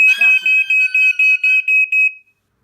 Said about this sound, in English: The EI100B alarm.